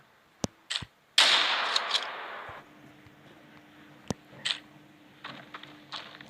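Gunfire from the mobile shooter Standoff 2 during target practice: a few sharp isolated shots and one louder burst with a short ringing tail, then quieter scattered pops over a faint steady game hum.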